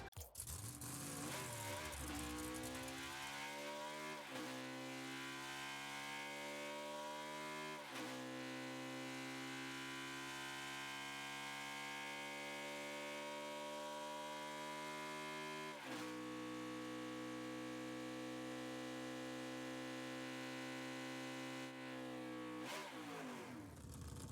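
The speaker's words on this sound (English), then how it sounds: "And here's the engine sound." A NASCAR Next Gen-style race car engine in the video game Rocket League revs and roars through repeated gear shifts, pitch climbing then dropping several times, loud and continuous with no voices.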